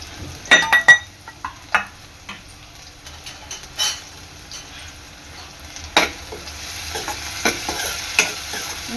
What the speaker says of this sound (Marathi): यामध्ये मी कांदा आणि आपला कढीपत्ता आणि जिरं हे फोडणीला टाकलेलं आहे।